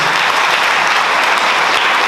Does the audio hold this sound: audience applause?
yes